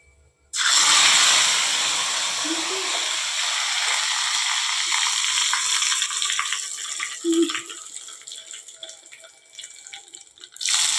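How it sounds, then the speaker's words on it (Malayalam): Crushed garlic and curry leaves frying in hot oil, a sudden loud sizzle that starts abruptly and hisses steadily, slowly fading with a few pops. "വെളുത്തുള്ളിയും ഈ ഒരു വേപ്പിലയും കൂടി ഫ്രൈ ചെയ്തിട്ട് ഇതിനകത്തേക്ക് ഇടണേ"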